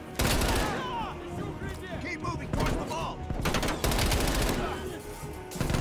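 AK rifle fire in the campaign of Call of Duty Black Ops Cold War, rapid close bursts of automatic shots with brief gaps, loud and busy with game effects layered over them.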